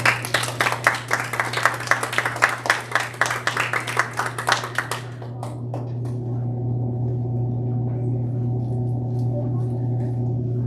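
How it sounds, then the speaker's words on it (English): Audience at a swim meet awards ceremony applauding silver and bronze swimmers, a burst of rapid clapping for about five seconds that stops abruptly, leaving a steady low hum. "Let's go ahead and give them a nice big round of applause"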